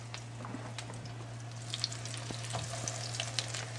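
Eggplant slices frying in a pan for eggplant parmigiana give a steady, quiet sizzle under a low constant hum, with scattered soft pops and crackles and no talking.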